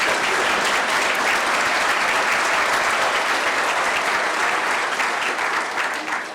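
Sustained applause from a panel discussion audience on AI at a college, dense and steady throughout at even loudness, tapering slightly at the very end.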